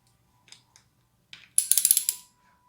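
Ratchet wrench with an 8mm socket loosening the throttle clamp on a Honda CRF450R motocross bike's handlebar: a few soft clicks, then a quick close burst of about six sharp ratcheting clicks.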